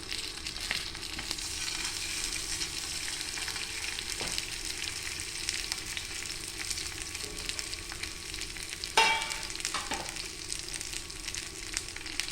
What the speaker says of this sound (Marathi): इथे आता आपण एक तवा घेतलेला आहे त्यात आपण थोडस तेल टाकतोय त्यात आपण आता बांगडा ऑफ फ्राय करून घेऊया